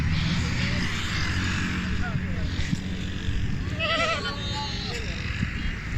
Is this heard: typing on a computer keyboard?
no